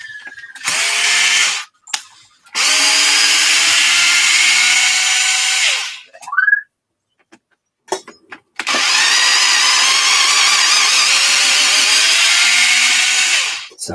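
Cordless power tool on a nearly dead battery, used on an Arrma Mojave 6s BLX RC car's front differential: long loud whirring runs that bog and sag in pitch, stopping and restarting, with brief gaps between bursts.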